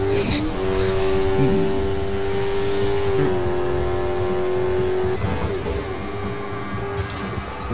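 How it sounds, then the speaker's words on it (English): Car engine whining at a sustained steady pitch with tyre squeal while drifting in the racing video game Burnout; loud and close, continuous revving throughout. "Now I'm drifting, now I'm drifting like a normal"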